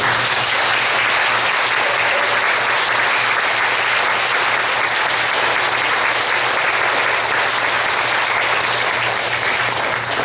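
Church congregation applauds in a loud, dense, continuous burst of clapping that holds steady throughout, with a faint hum underneath.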